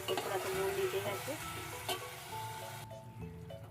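Chicken cooks in oil on a stove for roll paratha, making a close, continuous sizzle and crackle with stirring noises. The sound drops away abruptly near the end.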